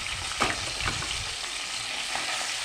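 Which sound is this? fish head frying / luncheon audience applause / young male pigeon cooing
fish head frying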